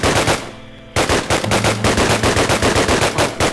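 An MP40 submachine gun fires in rapid automatic bursts in a Minecraft WW2 mod, loud and close, with a brief gap before the second longer burst and a faint tone underneath.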